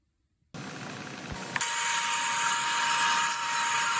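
A high-pitched Dremel rotary tool starts up and whines steadily, grinding continuously into wood while carving a wood spirit face, with a bright, buzzing edge.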